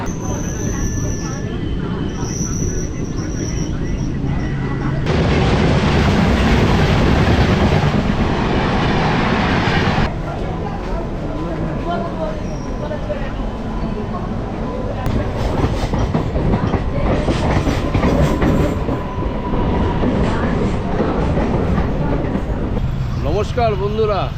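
The Howrah–Dhanbad Black Diamond Express rumbles into the platform with steady clattering wheels and rail noise, loud and close, while voices and station bustle carry underneath.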